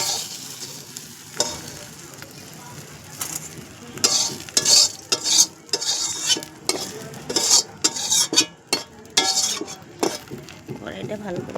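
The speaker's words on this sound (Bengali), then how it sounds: "এবার আমি তুলে নিচ্ছি বাটির মধ্যে মাছগুলো।" Koi fish frying in a pan, a constant sizzle broken by repeated clinks and scrapes of a utensil stirring and lifting the pieces into a bowl, loud and close with irregular bursts.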